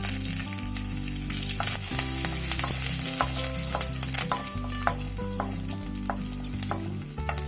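Cloves, stone flower and fennel seeds fry steadily in hot oil for a roadside-style kurma, a continuous close sizzle with faint crackles and a few light stirring knocks.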